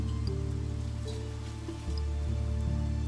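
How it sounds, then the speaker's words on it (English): Rain falls steadily in the survival game Niche. The soft, continuous patter runs alone under a low, looping game background. "I'm trying to collect as much food as we possibly can while the rain's still here."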